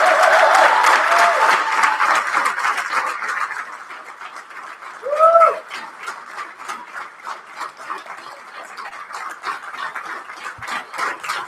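Applause from the audience at a national championship final, following the call to clap for the two finalist teams. The clapping is dense and loud at first, fades to scattered claps, and a brief voice cuts in midway.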